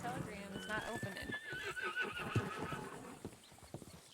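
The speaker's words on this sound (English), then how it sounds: "Let me go get my horse." A horse whinnies loudly in a rising and falling neigh while its hooves clip-clop steadily close by, as part of a staged scene.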